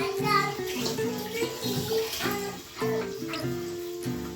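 Water poured or run from a tap into a pot to cook rice in a home kitchen, a steady splashing rush under a background tone with a few brief dips, close by.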